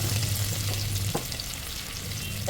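Curry leaves and sliced onions fry in hot coconut oil in a pan, giving a steady, close sizzle with a faint low hum and a brief stirring scrape.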